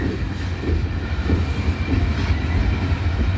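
A loaded freight train rolls past at close range with a steady deep rumble of heavy cars and faint wheel clatter, continuous and without talk.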